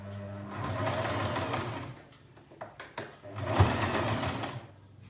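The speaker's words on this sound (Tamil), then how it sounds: "இந்த இடத்த வந்து கொஞ்சம் இப்படி மடித்து நம்ம தைச்சிக்கலாம்" A sewing machine stitches folded dori piping for churidars and kurtis, running in a close, steady burst for about two seconds, pausing briefly, then whirring again near the end.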